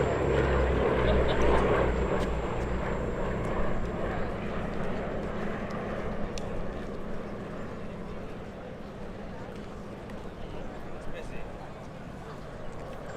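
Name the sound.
two Westland Lysander aircraft flying past at Duxford airshow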